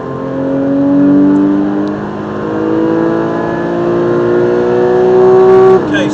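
A car laps the Silverstone circuit with a steady, loud engine drone whose pitch climbs gradually and then cuts off sharply near the end, though the rumble over the apex kerb is not clearly distinct.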